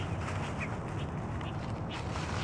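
Ducks quack softly now and then over a steady outdoor background, with no voices.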